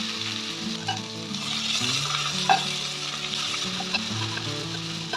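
Three chopped onions dropped into ghee with puffed cashews and raisins for ghee rice, a strong even sizzle with stirring scrapes and a single sharp clink, no talking.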